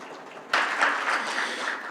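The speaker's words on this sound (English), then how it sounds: "please applaud or welcome him again" After a brief hush, applause breaks out suddenly at a presentations session and holds as a steady, moderately loud wash of many hands clapping to welcome a presenter.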